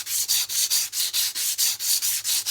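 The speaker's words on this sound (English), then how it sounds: "let's start working that paste gently into all that corrosion" Paste is rubbed gently back and forth into corrosion on a Yamaha XS 500 motorcycle, a close, steady scrubbing in even strokes about five per second with no voices.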